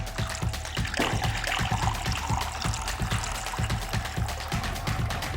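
Juice is poured back and forth between cups while mixing a Bloody Mary, splashing in short bursts with irregular trickles and drips close by, fairly steady throughout.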